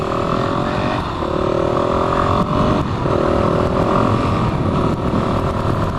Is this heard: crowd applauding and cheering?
no